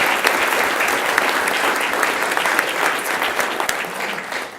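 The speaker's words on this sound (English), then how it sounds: "If we could just give all of them a big round of applause for their achievements." Sustained applause from a seated audience at a school governing board meeting honouring student athletes, dense and steady throughout with no break.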